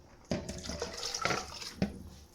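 Water splashes and pours briefly into a pot nearby, with a few distinct splashy bursts at moderate volume.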